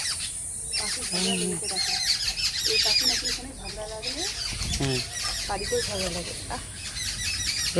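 Birds call and squawk in a rapid, busy chorus of chirps and squeals throughout, fairly close, mixed with people talking over them.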